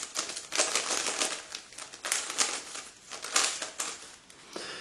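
Plastic puzzle cube, a Bochuang GT or Fisher-style Rubik's-type cube, being scrambled by hand: dense, continuous clattering and clicking of turning layers in rapid irregular bursts, close and fairly loud, with no speech.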